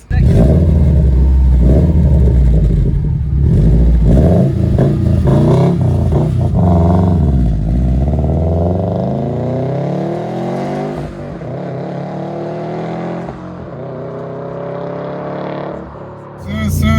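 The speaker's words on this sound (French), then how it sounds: "Sifflement du turbo avec ce son du moteur boxer" Subaru Impreza WRX STI with a 2-litre EJ207 four-cylinder turbo boxer engine, loud throaty rumble rising through revs with a turbo whistle on top, then easing off before a fresh surge at the end.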